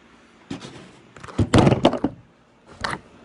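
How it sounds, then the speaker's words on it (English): Several dull thunks and knocks come from a camera being knocked over during an epoxy countertop job. They are close and fairly loud, arriving as one clattering cluster in the middle with a lone bump near the end and no talking. "And knock over the camera too."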